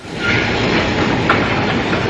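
A train carrying 400 starving evacuated children from the Volga rumbles loudly and steadily, with clattering wheels and a hissing, rushing wash of noise throughout.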